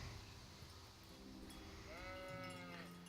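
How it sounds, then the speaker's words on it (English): Sheep in the Kingdom Come: Deliverance video game bleat once, a wavering drawn-out call heard over steady low background ambience, fairly faint and slightly distant. "there's the sheep"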